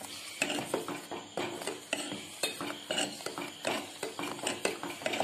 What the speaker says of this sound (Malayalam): എന്നിട്ട് നന്നായി ഇളക്കുക